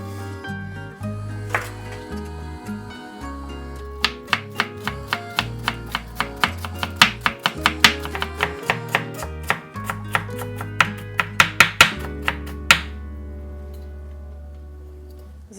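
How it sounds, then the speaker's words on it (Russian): A knife chops celery stalks rapidly on a wooden board, a long run of crisp, close taps speeding up and slowing, over a low background hum. "Я беру 3 стебелька и нарезаю их, как и предыдущие ингредиенты"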